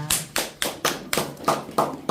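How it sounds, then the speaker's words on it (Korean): Congregation at a Korean prayer meeting clapping in unison, seven loud sharp claps in a steady, slightly uneven rhythm, close and clear with no talk over them. "예수님께 박수 한번 드리겠습니다"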